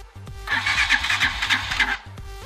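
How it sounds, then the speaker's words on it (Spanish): A motorcycle engine that had been stalling and losing power cranks briefly and catches, settling into a steady rough idle with rhythmic pulsing; close and fairly loud, no voices. "vamos a encender lo que es nuestra motocicleta"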